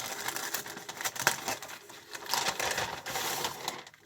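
Plastic packaging crinkling and rustling as embroidery thread is unwrapped, close up and fairly quiet, with irregular bursts of crackle and pauses between handling.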